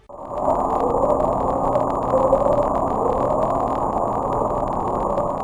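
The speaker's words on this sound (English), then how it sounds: "a series of short ascending tones repeated at intervals of several seconds" Upsweep, the unexplained ocean sound from a hydrophone recording, heard as a steady low rumbling hiss with faint short rising tones repeating inside it, continuous and fairly loud with no voices.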